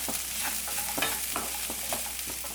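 Powdered spices, green chillies and asafoetida being stirred in a hot pan for onion rice: a steady, close sizzle broken by regular scraping strokes of a spoon, with no talking.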